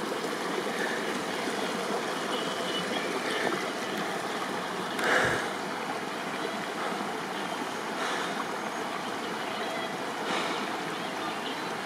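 A small cascading stream along Lookout Mountain Trail rushes and splashes continuously close by, a steady bright wash of running water with one brief louder burst partway through and no voices.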